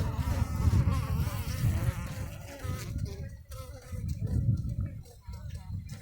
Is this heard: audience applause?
no